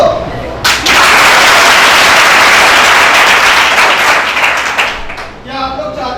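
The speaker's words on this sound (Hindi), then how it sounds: "तो सभी बच्चे मिलकर उनके सम्मान में जोरदार तालियां बजाएं।" A group of schoolchildren claps loudly and steadily in a dense, sustained burst of applause at a school health awareness programme, fading near the end as voices return.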